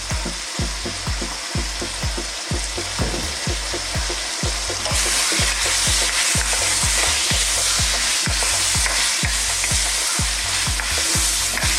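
Sweet potato pieces fry loudly in a pan with salt and ground coriander while a utensil stirs them in a steady, quick scraping rhythm over continuous sizzling, growing brighter and hissier halfway through, no voices.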